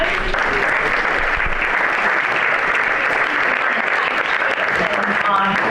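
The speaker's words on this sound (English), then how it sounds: "One more round of applause." Sustained applause from an audience at a membership meeting, following a panel discussion; a dense, steady wash of clapping throughout at strong level, with a voice briefly audible near the end.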